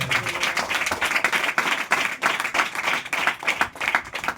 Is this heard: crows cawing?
no